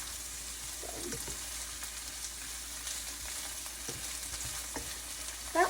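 Onions and carrots frying in a pan give a steady, quiet sizzle throughout, with a few faint stirring knocks and a short louder clack at the end, close and without talk.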